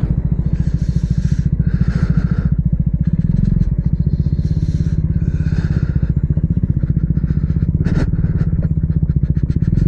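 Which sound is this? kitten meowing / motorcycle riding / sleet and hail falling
motorcycle riding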